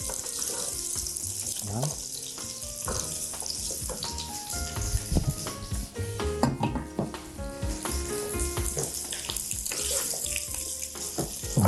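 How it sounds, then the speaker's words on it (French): Sliced carrots sizzling as they fry in a pan for an Algerian dish, a steady close hiss with crackles and utensil clinks throughout, and a voice speaking briefly near the end. "Je vais faire frire mes carottes"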